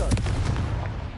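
Confringo fire blast spell cast in the video game Hogwarts Legacy: a loud, close, booming burst with crackling, gunfire-like impacts that rumble on steadily for the whole moment.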